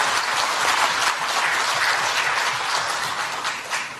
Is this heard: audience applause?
yes